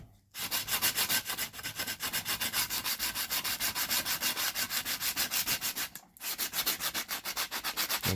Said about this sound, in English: Get some sandpaper.